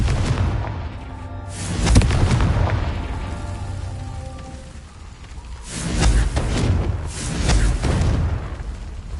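In the video game Hogwarts Legacy, the Confringo blast spell sets off heavy, booming explosions. Two loud bursts rumble out with a dip between them, and no voices are heard.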